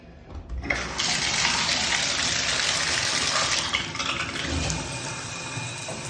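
Water runs steadily from a shower diverter in a bathroom under repair, a continuous hissing stream that starts abruptly and holds at a moderate level, with no voices.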